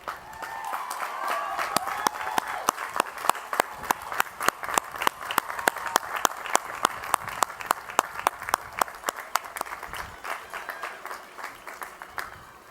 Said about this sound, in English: ask them to stand for a well-deserved round of applause from the class of 2008